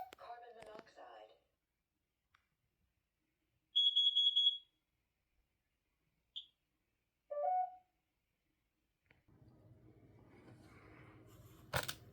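A home combined smoke and carbon monoxide alarm running its self-test, giving short loud high-pitched beeps in separate bursts with quiet gaps, a spoken voice prompt from the unit, and background noise toward the end.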